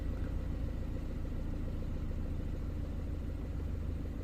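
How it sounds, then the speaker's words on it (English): A BMW 116i engine runs with a misfire, a steady low rumbling idle with an uneven, slightly lumpy pulse, heard up close with no talking. "Now it definitely sounds like a misfiring."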